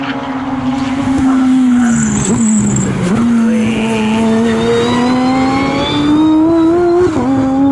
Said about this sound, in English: the pressure from the Becca Palmer GT4 car